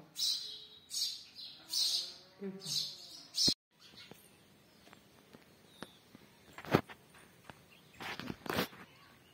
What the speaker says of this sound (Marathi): हे ते चिमणीचं पिल्लू आता ते बाहेर पडलं आणि थोडं ओढायला शिकलं